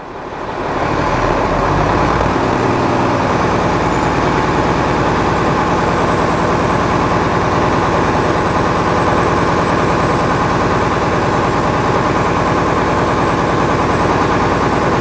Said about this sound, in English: I'm going to press on the accelerator to build the air again